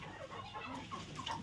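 Country chickens in a shed clucking softly, a few faint scattered clucks over low background noise, with no talking.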